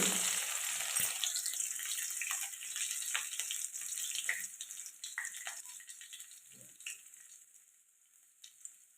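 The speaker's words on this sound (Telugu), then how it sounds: "అవి ఫ్రై అవ్వాలండి అలాగే కచ్చపచ్చగా దంచుకున్న వెల్లుల్లి" Coarsely crushed garlic frying in hot oil in a pan for an Indian drumstick dal, a bright steady sizzle that gradually quietens, with a few soft stirring knocks.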